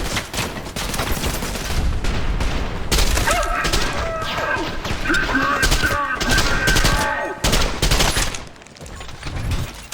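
Rapid bursts of gunfire in the video game Trepang2 crackle almost nonstop, dense and loud, with a voice briefly heard amid the shooting.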